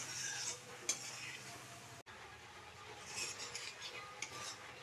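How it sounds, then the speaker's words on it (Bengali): Spice paste with a splash of water is fried and stirred in a pan, giving soft sizzling with scraping and clinking of a spoon against the pan and a brief sharp knock near the start. "একটু জল দিছি যাতে মশলাটা ভালো করে কষানিও।"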